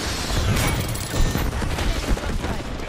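Dense, rapid gunfire from an Apex Legends match, a continuous rattling fusillade with booming low-end hits, loud and close throughout.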